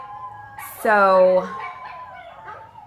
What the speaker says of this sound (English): sorry for the howling dogs.